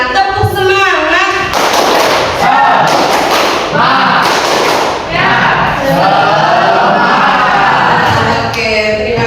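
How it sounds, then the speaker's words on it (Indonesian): An Indonesian school class performs the rhythmic 'tepuk semangat' spirit chant, with loud group voices and sharp, steady claps filling the room in a close, busy burst of chanting and clapping. "kita tepuk semangat"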